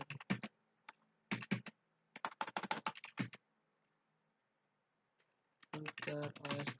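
Quick bursts of typing on a computer keyboard, close and crisp, enter OSPF router commands in Packet Tracer, broken by a pause of near silence before a final dense flurry of keystrokes.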